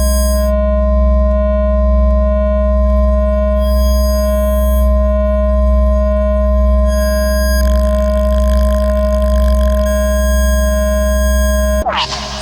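A steady, loud feedback loop from the No Input Mixer app on an iPad holds several pure sustained tones with a low hum, a burst of hiss joins midway, and a sudden sweep ends it.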